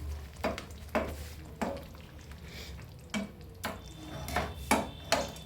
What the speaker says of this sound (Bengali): পালং শাকটাকে এদিক ওদিক করে একটু নাড়িয়ে মিশিয়ে দেবো